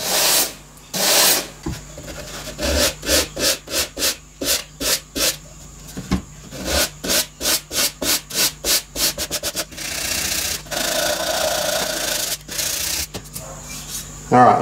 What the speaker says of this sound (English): I'm using 240 grit abrasive paper there